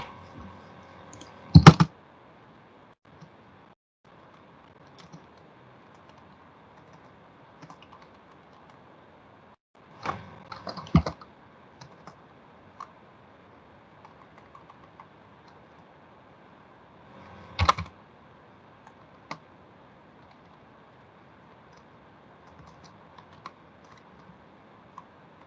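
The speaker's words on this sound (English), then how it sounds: "And no, I'm not using a typewriter. That's just my keyboard." Keystrokes on a computer keyboard come in three short, close bursts of clicking separated by long quiet stretches, with a faint steady room hum underneath and no talking.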